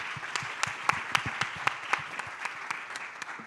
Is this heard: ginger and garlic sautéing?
no